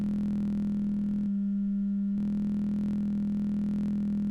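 A slave oscillator running unsynced to its master gives a steady, buzzy sine-like tone that cuts out briefly and then resumes, continuous and alone.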